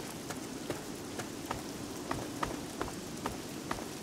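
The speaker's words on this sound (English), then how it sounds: "It's raining again." Rain falls steadily in the video game Fallout 3, a continuous hiss of drops on surfaces with scattered sharper taps punctuating the wash, moderately loud and with no voices.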